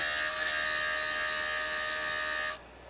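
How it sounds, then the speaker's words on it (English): A turquoise slab being ground on a JOOLTOOL, producing a steady, close, high-pitched whirring grind that holds evenly for about two and a half seconds, then cuts off abruptly. "So now I'm going to grind here."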